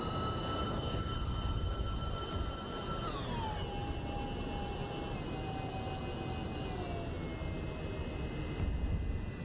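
An MD-11 freighter jet rolling out after landing in the X-Plane 12 flight simulator, a steady loud engine roar with a whining tone that drops in pitch as the jet slows, no talking.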